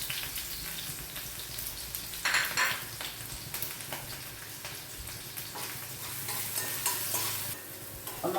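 Onion and curry leaves sauté in a pan with a steady sizzle, broken by bursts of stirring and scraping that swell and fade through the clip, close and clear with no talking.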